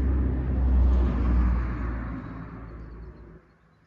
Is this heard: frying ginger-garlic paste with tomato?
no